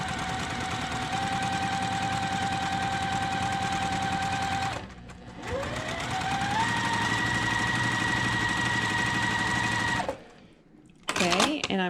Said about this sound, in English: So let's stitch.